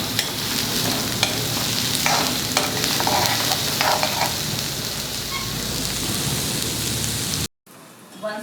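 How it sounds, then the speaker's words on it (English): Two onions sautéing over a high flame while being stirred, a loud steady crackling sizzle with scrapes of the spoon, cutting off abruptly near the end into a quieter hiss. "Saute them nicely so they also turn out slightly brown. Keep the flame high."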